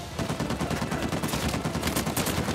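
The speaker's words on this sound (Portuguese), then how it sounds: "Tô tomando muito tiro." Rapid automatic gunfire rattles continuously during a chase in Uncharted 4, dense bursts of shots hitting around the player at close range with no talking.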